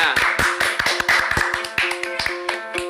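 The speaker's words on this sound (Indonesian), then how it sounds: "Tepuk tangan sekali lagi buat kita semua." Hands clapping in a children's educational program, a few close, crisp claps in an uneven rhythm over a sustained musical tone.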